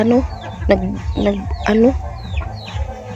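Pet hen clucking nearby in a large coop, a few short rising clucks in quick succession over faint background noise, with other farm sounds low underneath.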